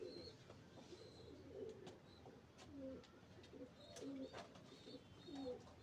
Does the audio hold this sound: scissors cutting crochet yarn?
no